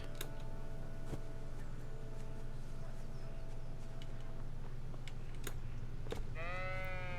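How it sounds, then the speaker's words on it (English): Sheep bleat a few times in the video game Kingdom Come: Deliverance, over a steady low drone and ambient hum, with a clearer harmonic bleat near the end. "Look, there's sheep."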